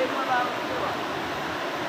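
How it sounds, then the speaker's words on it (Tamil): The Beeman waterfall pours heavily after strong rain, a steady, dense roar of falling water that fills the scene without a break, heard from nearby. "இந்த நீர்வீழ்ச்சி ரொம்ப அபரிஜிதமான நீரை கொட்டிகிட்ருக்கு"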